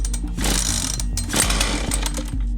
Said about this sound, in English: Pull the rope repeatedly and with force until the engine fires.